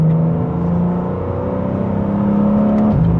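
A BMW M4 pulls away in drive with a loud, close engine drone that climbs steadily in pitch, drops briefly at a shift, then settles into a smooth rising hum.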